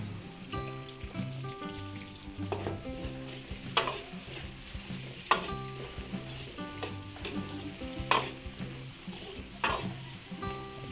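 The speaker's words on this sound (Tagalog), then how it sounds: "Igisa po natin itong ating sahog" Onion and other ingredients sauté in a hot pan with a constant sizzle, broken by repeated sharp clinks and scrapes of a utensil stirring against the metal, fairly close and with no talking.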